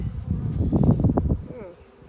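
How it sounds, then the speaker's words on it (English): Honey bees buzzing close around a hive, a dense swarming drone with rising and falling whine that thins out near the end. "Got a lot of bees up on the side there."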